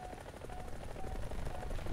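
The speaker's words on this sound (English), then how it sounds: "Once you're, like, pulling out to re-engage, you hear all your rockets hit." Rockets striking targets in a helicopter combat video game, a rapid dense rattle of impacts and explosions over steady rotor-like noise, fairly faint and continuous.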